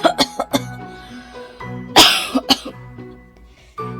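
An old woman coughing inside a hut, a series of sharp, close coughs and throat-clearing bursts in uneven clusters, with one harsher, louder hack in the middle and brief pauses between.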